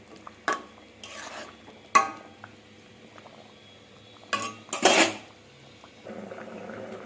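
Fried tangra fish go into a simmering curry in a pot: sharp metal clinks and spoon scrapes on the pot, with a burst of bubbling and splashing near the end, against a quiet background.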